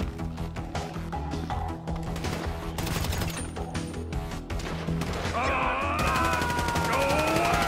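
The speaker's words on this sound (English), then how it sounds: "So I guess we're shooting our way out of here!" Shootout gunfire in GTA V, a heist firefight against a private army, with loud overlapping shots and crashes near at hand under a dense mix of game music and effects.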